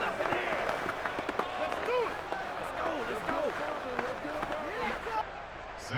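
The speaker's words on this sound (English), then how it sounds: "How about some applause for the defense there?" Stadium crowd noise from the Madden 22 football video game, a broad wash of cheering and clapping that holds steady at moderate level.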